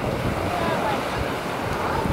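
Sea surf washing up on a beach, the water cloudy, choppy and foamy; a steady broadband rush of breaking waves with some wind buffeting the microphone, fairly loud and continuous.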